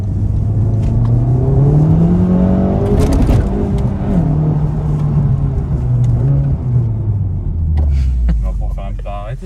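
Honda Civic Type R fitted with a Remus exhaust and stage 1 tune accelerating in first gear, a loud, close engine drone rising smoothly in pitch before easing off, with people talking over it.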